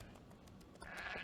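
Sheep bleating in the Nancy Drew video game, set around the grounds of Castle Malloy, with a brighter, louder bleat rising near the end over steady game background sound.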